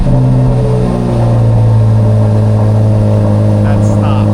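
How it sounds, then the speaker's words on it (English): An engine in a dark garage, either an Audi R8 V10+ or a C8 Corvette Z06 sports car, starts up and settles into a loud, close, deep steady rumble with strong low harmonics that swell slightly after the first second. "I need to shut up so we can hear this car start"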